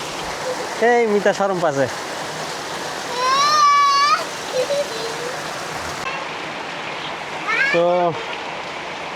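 Heavy downpour pours steadily as a loud, continuous hiss throughout. Voices speak over it in a few bursts, with one drawn-out call in the middle.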